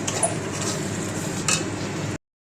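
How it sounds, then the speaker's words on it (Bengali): Spices for aloo dum being stirred and sautéed in a pan, a steady close sizzle with scraping and light utensil clinks against the pan, no talking. "তো আলুর দমের মশলা কষছে এখন"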